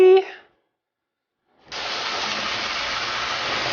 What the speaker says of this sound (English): who likes the sizzle of some bacon?